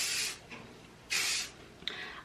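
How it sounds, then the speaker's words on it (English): Got2b glue hairspray sprayed onto hair in two short hissing bursts, close and fairly quiet, with a faint click and soft rustle between them. "I either use the Got2b glue or the Got2b glue spray right here, and I literally spray it on top and lay it down."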